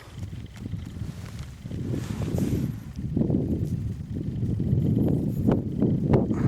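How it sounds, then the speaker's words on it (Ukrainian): Strong wind buffets the microphone in heavy, rumbling gusts that rise and fall, with rustling and faint clatter underneath. "Вибачаю за вітер, дуже сильний вітер."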